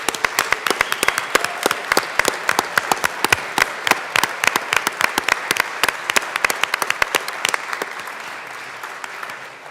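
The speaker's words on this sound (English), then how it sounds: "And if we could give them a round of applause." Legislators in the Colorado House chamber applaud fire chaplains, a room of many hands clapping with sharp individual claps standing out close by before the applause thins and fades.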